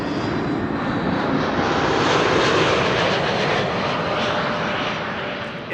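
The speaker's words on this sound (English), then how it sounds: "In the meantime, Transavia is landing here. Flight 6116, a symmetrical flight number, returning from Malaga in Spain. That's an A321neo." A Transavia Airbus A321neo landing at Amsterdam Schiphol on runway 06, returning from Malaga: a steady, loud broadband jet roar that swells slightly near the middle and holds throughout, with no talk.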